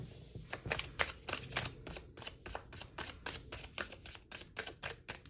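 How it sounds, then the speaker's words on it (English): A deck of tarot cards is riffled and shuffled close by in a quiet room, with rapid, rhythmic papery flutters repeating steadily throughout. "One more shuffle and then we'll split the deck here."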